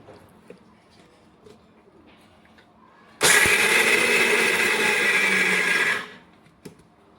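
Electric mixer grinder grinding peanuts in a home kitchen: after a quiet stretch, a loud, steady high whir runs for about three seconds, then cuts off abruptly.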